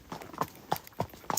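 Hooves of a Friesian horse clip-clop steadily on a hard road through a village, with about five distinct, evenly spaced strikes at close range.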